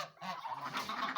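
Domestic fowl, geese and other farmyard birds, call in a busy, overlapping chorus of honks and clucks at moderate distance, continuous through the short stretch with no talking.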